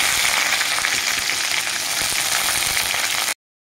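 Chopped onion sizzles in hot oil with whole white cumin seeds and a bay leaf, a steady crackling fry that cuts off abruptly into silence near the end.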